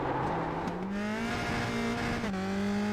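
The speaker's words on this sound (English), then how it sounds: "And he lights up the tires." An open-wheel race car in a sim racing game at VIR spins its tires as it powers out of Oak Tree, a loud, steady engine whine rising in pitch under sustained tire squeal, with no talk.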